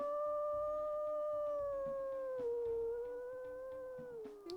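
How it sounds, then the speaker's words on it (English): A wolf in the video game WolfQuest gives a long, sustained howl, smooth and tonal, gliding gradually lower in pitch before breaking off at the end; loud and alone with no talk. "let's go ahead, we'll listen to his howls."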